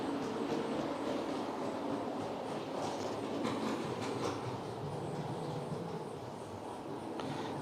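Model railway locomotive, an Irish loco in model form, running steadily on its track with a continuous, fairly loud rumble and faint clicking throughout, no talk.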